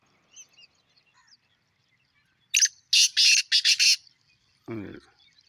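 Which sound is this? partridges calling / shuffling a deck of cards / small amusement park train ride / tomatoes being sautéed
partridges calling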